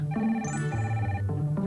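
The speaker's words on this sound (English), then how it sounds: "I'm after a cordless phone." A cordless phone ringing with an electronic ringtone, a few tonal warbling pulses close and clear in a late-1990s Tandy television advertisement.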